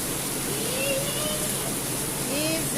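Heavy rain pours outside a house as a steady, dense rushing hiss, with faint voices underneath.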